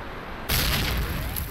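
A missile explosion brings down a Hind helicopter in the Thunder Helix video game: a sudden loud boom erupts after a quieter half-second of engine noise, then a sustained roaring rumble of fire and debris.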